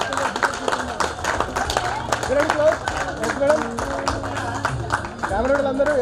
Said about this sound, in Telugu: ఒక్కసారి గట్టిగా చప్పట్లు కొట్టాలండి